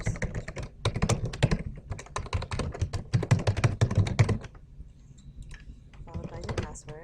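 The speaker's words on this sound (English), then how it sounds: "You're going to type in your email address," Someone types an email address on a computer keyboard: quick, close clicking keystrokes in irregular bursts. A sparser patch comes midway, with light clicks resuming at the end.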